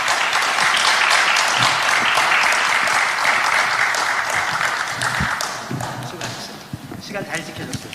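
A dense, loud round of audience applause closes a church election candidates' hearing. It is sustained for several seconds before tapering off into talking.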